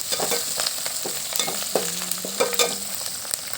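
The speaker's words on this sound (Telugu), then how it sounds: "ఆవాలు వేసుకుందాం, ఎండుమిర్చి వేసుకుందాం, పచ్చిమిర్చి, కరివేపాకు ఇవన్నీ వేసుకొని దీన్ని బాగా ఫ్రై చేసుకుందాం" Mustard seeds, dried red chillies, green chillies and curry leaves fry in hot oil with a close, crackling sizzle, punctuated by sharp pops and a few clinks of stirring, no voices.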